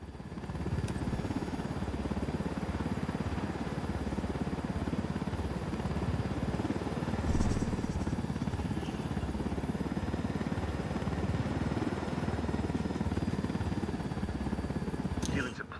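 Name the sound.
supply helicopter in the video game Ghost Recon Wildlands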